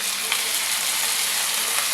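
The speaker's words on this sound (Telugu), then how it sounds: "వెల్లుల్లి, అల్లం పచ్చివాసన పోయేంత వరకు వేయించుకోవాలి." Garlic and ginger frying in a pan for egg curry, a dense, even sizzle that stays loud and close throughout, with no voices.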